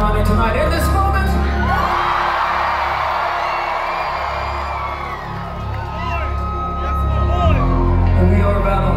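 A crowd at a live metalcore concert on May 14, 2022 cheers and screams in a steady, loud roar that swells and falls for several seconds, with a voice speaking over it through the PA.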